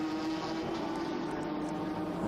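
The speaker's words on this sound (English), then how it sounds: "the 911 Porsche." A Porsche 911 GT3 race car drones with a steady, sustained engine note during an endurance race at Brno, heard at a distance and without talk.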